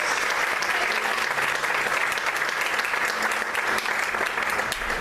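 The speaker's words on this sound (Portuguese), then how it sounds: "Você pode aplaudir e exaltar o nome dele." Church congregation applauding during an evening worship service, a loud, dense, steady wash of clapping that fills the whole stretch without pause.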